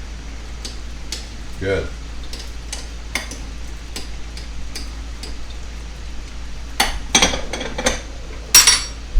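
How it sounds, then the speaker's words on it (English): A spoon stirs beans cooking fast in a pan, with a string of light metallic scrapes and ticks building to louder clanks near the end, and a voice speaks briefly. "I usually take it and give them a little stir because you don't want them to stick at the bottom"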